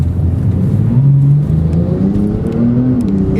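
A Porsche 911 Turbo S 992 with 650 hp accelerates, its engine note and turbos rising steadily in pitch, a loud, close, continuous drone with no voices.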